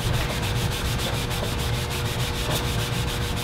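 A buffing product is scrubbed against Molotow One For All marker paint in a steady, continuous rhythmic rubbing, close and fairly loud, with no talking.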